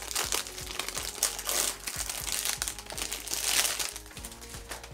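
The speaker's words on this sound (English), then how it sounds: "So I took the plastic off" Plastic wrap crinkling and crumpling as it is pulled off a Diptyque candle, a continuous close, fairly loud rustle with sharper crackles throughout and no talking.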